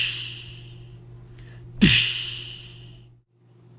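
Vocal imitation of an aggressive crash cymbal, a single breathy "DSH" burst voiced once and left to trail off over a couple of seconds, close and fairly loud, with a steady low hum beneath.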